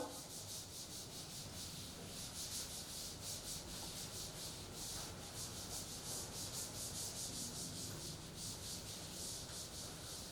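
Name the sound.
erasing a board by rubbing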